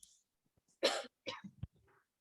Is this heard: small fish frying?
no